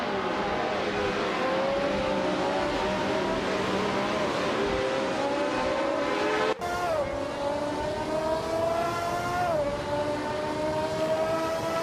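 A Surtees TS9 race car in a racing video game roars at high revs, its engine pitch climbing and dropping through gear changes, loud and continuous throughout.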